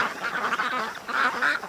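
Ducks quack in a short run of nasal calls, several overlapping calls close together, fairly near and clear with no talking.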